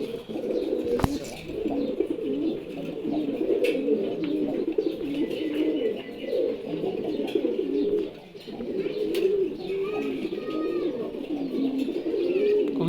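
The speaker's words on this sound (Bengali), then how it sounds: "স্ট্রং একটা নর কবুতর" A male pigeon coos in low, rolling, repeated phrases that go on almost without pause, close by, with a few faint chirps and small clicks in the background.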